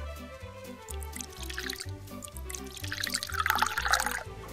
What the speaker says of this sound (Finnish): Minä kaadan meille teetä.